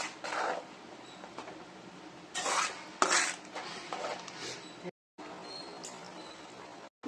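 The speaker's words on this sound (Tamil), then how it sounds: "நல்லா கிளறிட்டு மூடி போட்டு மூடிக்கலாம்." A spoon scrapes and rubs around inside a pot of Tamil lentil-dumpling curry (paruppu urundai kulambu) in uneven strokes, close and fairly soft, with brief pauses between.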